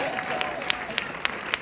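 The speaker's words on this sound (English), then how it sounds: "You Americans clap for me." A comedy club audience applauds a stand-up comic. The clapping is dense and continuous through the short stretch, with a crowd murmur underneath and a few sharper claps standing out.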